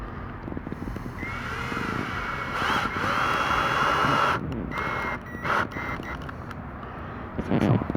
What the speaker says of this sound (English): I'm gonna put some of these on first. These are shorter screws.